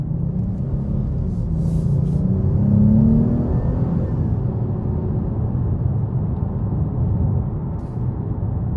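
2023 Dodge Charger GT with a 3.6 V6 accelerating on the road, a low continuous engine rumble that swells and then settles into a steady hum from inside the car.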